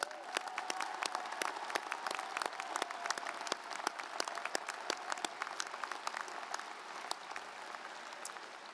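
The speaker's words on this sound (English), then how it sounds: "If they would please rise, let's give them a round of applause." Sustained applause from a large commencement crowd at the University of Utah greets 89 student athletes as they rise, steady and dense across the whole stretch, with sharper individual claps standing out above the wash.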